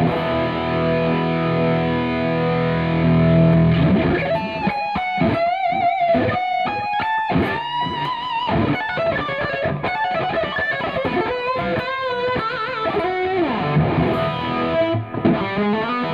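An electric guitar fitted with new pickups plays a steady, heavily distorted passage with effects, sustained chords and repeated picked notes ringing loud and close for the whole stretch, with no talking.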